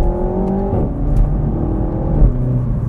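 Car pulling onto faster roads and accelerating to about 60 mph during a tire pressure test, its engine and road noise building steadily from inside the cabin, with a gear change partway through.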